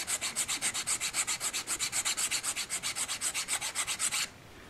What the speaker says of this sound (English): that's just by filing it, that's left a nice neat square edge